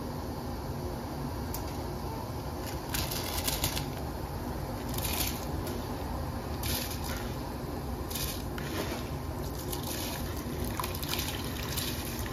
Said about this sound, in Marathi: तर आता आपण यामध्ये तांदूळ घालून घेणार आहोत